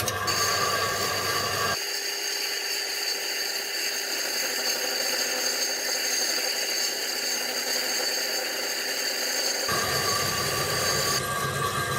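A home-built Gingery milling machine runs with its spindle turning far too slowly, giving a continuous mechanical whir and rattle that holds steady throughout at close range, no talking.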